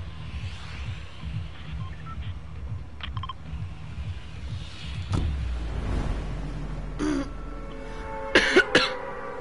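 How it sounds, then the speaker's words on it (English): A single cough bursts out midway through a Fortnite game session, over a low steady hum, followed by a few sharp clicks and short bursts of game noise. "Just got a cough."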